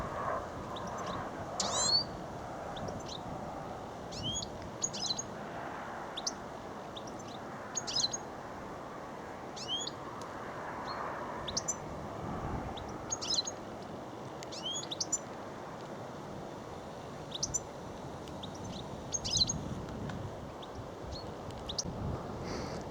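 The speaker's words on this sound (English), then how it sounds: "Lovely goldfinch." Goldfinch song on a countryside walk in the Sundon Hills in May: bright, short twittering phrases repeat every second or two over a steady outdoor hiss, moderately close and clear, with no talking.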